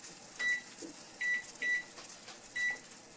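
Four short, high electronic beeps from a kitchen timer sound at uneven intervals over faint background noise, with no one speaking.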